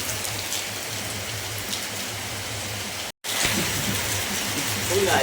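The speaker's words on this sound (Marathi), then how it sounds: "सकाळपासूनच पाऊस आहे" Steady rain pours down in a continuous broadband hiss during Dahi Handi festival preparations, with a brief dropout partway through and some muffled talk underneath.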